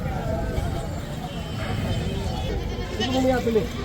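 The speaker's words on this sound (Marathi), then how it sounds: "आज बाजारामध्ये भरपूर प्रमाणात शेळ्या पण आलेल्या आहेत बोकडांचे पिल्ले पण आलेले आहेत" Goats and young kids bleat amid a busy Monday goat market in Kalamb, with a few nearby bleats rising toward the end over steady crowd babble and someone talking.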